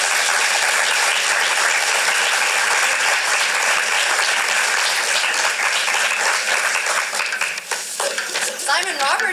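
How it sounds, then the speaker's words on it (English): Full audience applause after a cold reading of a young playwright's script at a theater festival, a dense steady wash of clapping that thins near the end as cheers and a voice rise over it. "Let's give him a round of applause."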